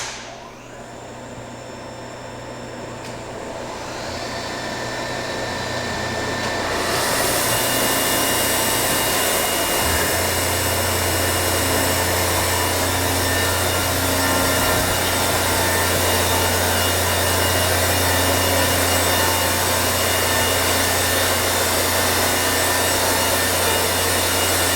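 Celaschi Progress 36A single-end profiler/tenoner powering up its motors one after another, a rising whir that swells in stages into a loud, dense, steady industrial roar with layered hums, no talking.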